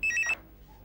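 A telephone rings with a short electronic trill of bright repeating tones, one burst lasting about a third of a second before cutting off into quiet room tone.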